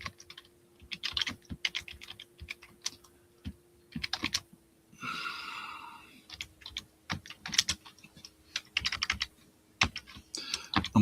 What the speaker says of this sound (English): I'm going to type it in the chat here